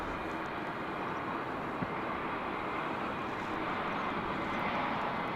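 An Airbus A321 airliner coming in to land at Dallas Fort Worth International Airport, heard as a steady, broad engine roar that holds evenly throughout with no talk over it.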